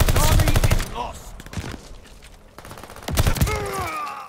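Rapid bursts of gunfire in the shooter game Call of Duty: Vanguard, loud and close at the start, tapering into scattered shots, then another heavy burst near the end.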